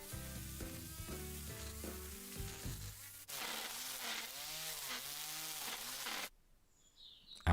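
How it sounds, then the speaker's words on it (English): A strimmer cuts long lawn grass in early autumn, its engine whining and shifting pitch in a continuous harsh buzz, close and loud, before cutting off near the end. "I'm using a strimmer because if the grass is long and you use a lawnmower, you might risk pulling up the roots"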